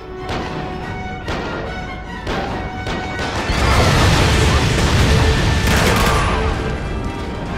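Loud, dense explosions and crashing blasts from the Quantum of Solace video game in a barge level, rumbling continuously with overlapping booms that swell midway, with no clear speech.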